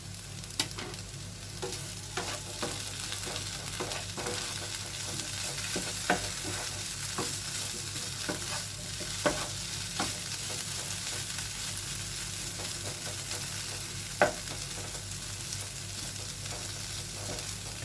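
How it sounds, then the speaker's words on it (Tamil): Potatoes deep frying in hot oil for a simple potato fry, a soft, even bubbling sizzle that runs throughout at low level, with a few faint clicks of a stirring spoon and no speech. "இது இன்னும் கொஞ்சம் டீப் ஃப்ரை ஆயிடுச்சுன்னா நல்லா கிறிஸ்பி ஆகிடும்."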